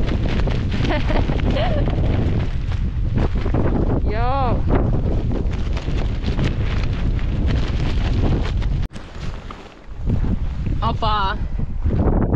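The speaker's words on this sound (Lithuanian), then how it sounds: "Vėjelis." Strong wind blows out on open water, a loud continuous rush buffeting the microphone with a brief lull near the end, while people talk over it and birds call faintly.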